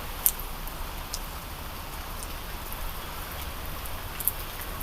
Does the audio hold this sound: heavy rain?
yes